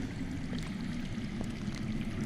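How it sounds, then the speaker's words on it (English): Faint underground flowing water in the Game of Thrones Telltale video game, a soft, steady trickling and gurgling stream heard alone at low volume. "That's water. I hear water. From underground."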